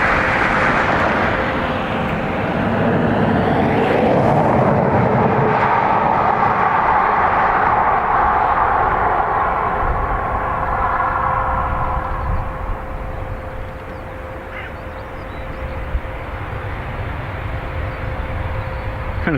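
An older-generation airliner arriving at Dublin Airport, a loud sustained broadband jet roar with a steady whine, heard close and continuous before easing slightly toward the end.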